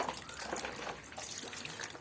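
Water splashing and trickling as lotus tubers are rinsed during repotting, a brief stretch of close, uneven sloshing and dripping with no talk.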